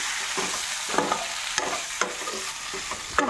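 Boiled pasta is stirred through a pan of frying onions, giving close scraping and clattering stirs over a continuous sizzle, with sharp utensil knocks at irregular intervals.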